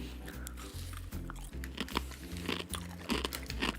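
Loud, close crunching of a crispy, spiced and savory Ukrainian snack, with rapid repeated bites and chewing crackles and faint vocal sounds in between.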